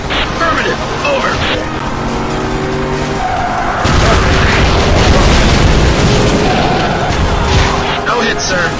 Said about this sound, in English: You have permission to use air-to-ground missiles.